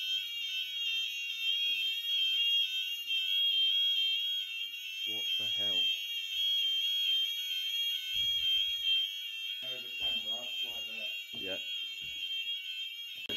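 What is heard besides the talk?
fire alarm ringing in abandoned mansion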